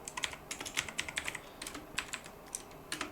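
Fingers tap steadily on a computer keyboard in quick, uneven clusters of soft clicks, close and fairly quiet, with no voice present.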